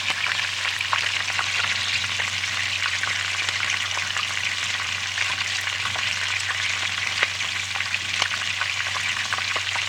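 Vegetables for Korean-style chow mein frying in a pan, giving a loud, dense, unbroken sizzle with occasional faint stirring ticks, close and steady throughout.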